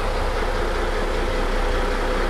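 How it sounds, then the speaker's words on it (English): The engines of a 1998 Sunseeker Superhawk 34 motor boat idle at the mooring, a steady, close, unbroken low rumble with no change in pace and no voices. "So the engines are running at the moment."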